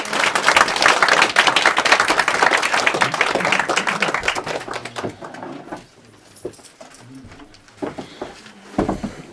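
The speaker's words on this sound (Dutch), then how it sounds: "Mag ik een daverend applaus voor onze openingsact Rick van Boekel." Open-podium poetry audience gives loud, dense applause for the opening act Rik van Boeckel, then the clapping dies away to a few scattered claps and quiet room sounds.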